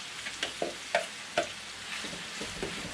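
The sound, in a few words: potatoes thrown into pan with browned beef tongue, sizzling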